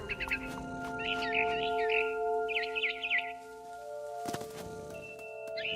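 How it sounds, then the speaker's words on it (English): A barn swallow chirps outside a bedroom window in What Remains of Edith Finch, giving several short bursts of quick twittering over steady low musical tones, with a soft thud partway through. "Then I heard chirping outside my window. It was a barn swallow going back to her nest."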